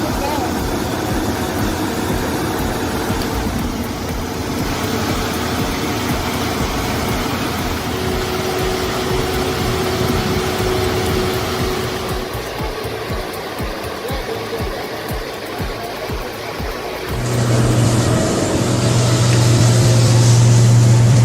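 The engine of a Komatsu PC 700 excavator roars in a loud, steady, close drone that dips briefly midway and then swells louder and rougher toward the end, with no other sounds over it.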